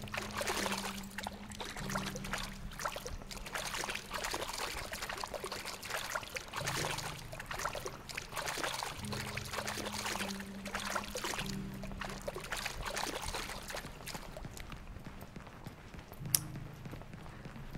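Continuous trickling and splashing water fills a quiet, empty Backrooms level in the video game, steady and fairly close, with faint stepping movement through it and no one speaking.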